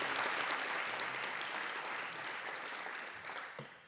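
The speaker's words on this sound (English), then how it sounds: "May we have a big round of applause for all of our sponsors." Sustained applause from an audience at a case competition awards event honoring the sponsors, a dense steady wash of clapping that fades slightly toward the end.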